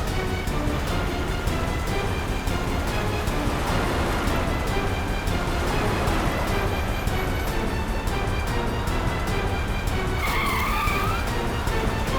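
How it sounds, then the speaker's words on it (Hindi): A car in a CID crime-drama scene is driven recklessly, its tires skidding and squealing loudly and continuously along with engine roar throughout, without a break. "इस तरह से गाड़ी चला रहा है, कहीं किसी को नुकसान ना पहुंचा दे।"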